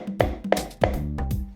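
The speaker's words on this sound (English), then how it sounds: "I like to pound it in with a mallet first so it gets a better bite" A mallet drives a 4-spur drive into a wooden bowl blank with four sharp, close knocks in a loose rhythm, each a solid woody thud.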